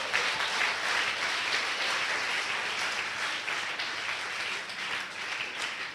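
Church congregation applauding together at a worship service, a dense, continuous wash of clapping held at steady volume for several seconds with no voices on top.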